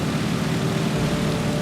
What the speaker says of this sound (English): So I'm going to chop the throttle.